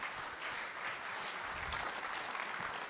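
An audience applauds the organizing team of a civic event in Guidel in 2021 with dense, even clapping. It is steady and fairly faint, as if heard from across a hall, and holds for the whole few seconds.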